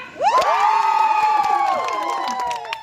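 A live studio audience at a TikTok show claps, cheers and shouts together in a loud burst that swells quickly and holds steady.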